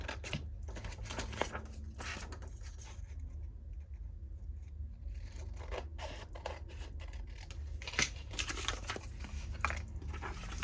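Scissors trim cardboard packaging for mini notebooks in a series of close, crisp snips and scratchy slides, irregular with short pauses between cuts.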